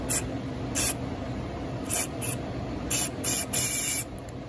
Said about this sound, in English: all I'm going to do is shoot some carb spray in it